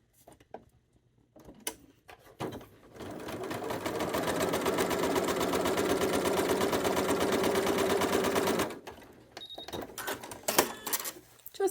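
A sewing machine stitches a quarter-inch quilt seam in steady, fast mechanical running for several seconds, with brief handling noises and quiet moments before and after.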